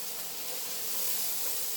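Frozen peas hit a hot pan while fried rice is cooking, giving a steady, loud, close sizzle and hiss that builds slightly and carries on without a break.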